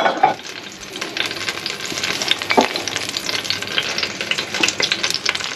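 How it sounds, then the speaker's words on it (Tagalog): Chicken frying in a pan for Filipino adobo, a steady close sizzle with occasional clatter and stirring scrapes, no talking. "I-fry natin ulit itong chicken."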